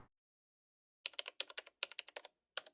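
Keyboard typing in the Phoenix Wright: Ace Attorney - Spirit of Justice game: after a silent pause, a burst of crisp, close key clicks in an uneven rhythm, with a final lone tap, no talking.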